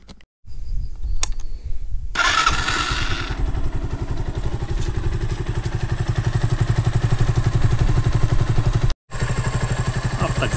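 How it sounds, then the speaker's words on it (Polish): Junak 121 motorcycle engine turned over and started, then a loud, close, steady thumping idle with a rapid regular beat, briefly cutting out near the end before resuming. "za chwilę odpalę silnik, żeby trochę z tą płukanką pochodził"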